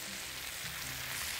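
Garlic and spices sizzling steadily in a hot pan, a dense continuous frying hiss with faint low cooking sounds beneath, close and even throughout.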